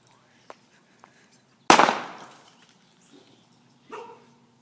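A plastic bottle bursts from a vinegar and baking soda reaction, one sudden loud bang that rings and fades over about a second. It sits among faint quiet clicks, and a dog barks briefly at a distance afterward.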